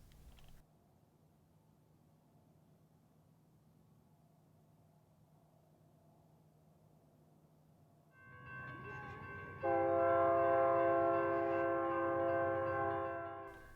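A low distant rumble builds as a freight train approaches across the desert near Route 66, then a loud sustained multi-tone horn blares over the rolling wheels, fading slightly at the end.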